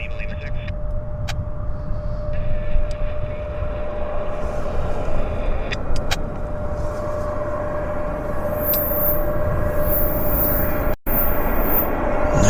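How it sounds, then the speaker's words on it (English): An Air Canada heavy jet on a Hong Kong flight lands at Vancouver International, a loud continuous engine roar and rumble heard from the airport surroundings, with a commentator talking over it. "This is Air Canada Flight 8 from Hong Kong. Setting up on short finals here at Vancouver International."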